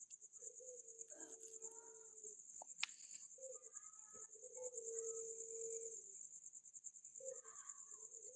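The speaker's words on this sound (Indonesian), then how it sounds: "Ini suara burung tekukur dari tadi bunyi terus." Soft, low spotted dove coos repeat at intervals against a steady high insect drone, with a sharp click partway through.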